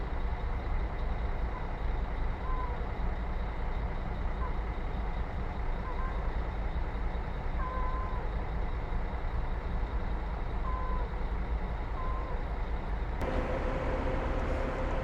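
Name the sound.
buses manoeuvring at Goiânia bus station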